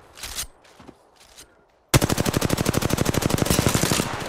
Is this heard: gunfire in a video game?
yes